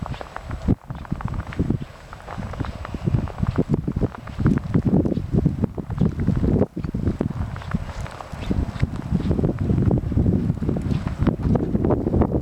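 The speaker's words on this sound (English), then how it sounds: "Wind's coming out of the north, maybe a little bit west, northwest." Wind blows hard outdoors during a spring snowstorm at the New Jersey shore, a loud, continuous rushing gust that buffets the microphone throughout with rough low rumbles.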